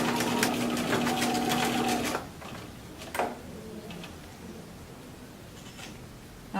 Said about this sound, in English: And I'm going to back stitch to start.